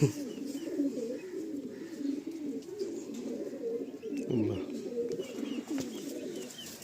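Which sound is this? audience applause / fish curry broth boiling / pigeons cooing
pigeons cooing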